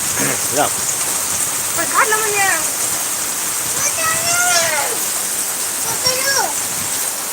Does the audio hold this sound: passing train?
no